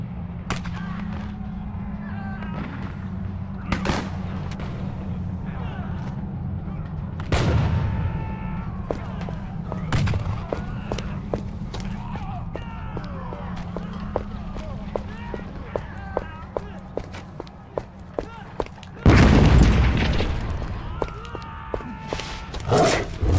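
Grand mortars firing in the action RPG The Incredible Adventures of Van Helsing II: heavy booms land at scattered intervals over constant battle noise, with one especially loud blast near the end and voices speaking throughout.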